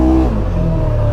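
A 2022 Segway Fugleman UTV engine revs hard under heavy driving, a loud close-up roar whose pitch slides downward partway through and then holds steady.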